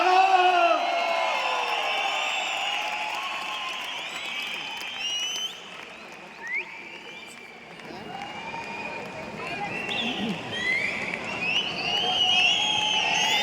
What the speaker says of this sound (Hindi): तालियां बजती रहनी चाहिए, सीटियां बजती रहनी चाहिए, हू हल्ला होता रहना चाहिए